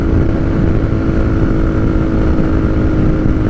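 A 2023 Kawasaki Z125 Pro motorcycle engine pulls steadily uphill, a loud continuous low drone with wind rush and no talking.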